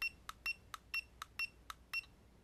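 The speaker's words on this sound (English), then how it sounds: "When it beeps, you release it." A TST 507 tire pressure sensor display gives a rapid series of about ten short, bright electronic beeps in an irregular rhythm. The beeps are close and fairly quiet over a faint background, with no talking.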